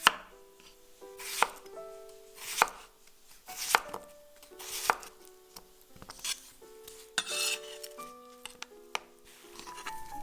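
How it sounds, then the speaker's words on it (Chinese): A knife slices peeled cucumber on a board in a series of crisp, evenly spaced cuts, each a sharp thunk, close up and alone. "黄瓜削皮去头后切片，"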